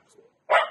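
A dog gives a single short, sharp bark close by at a home garden, preceded by a moment of faint quiet sound.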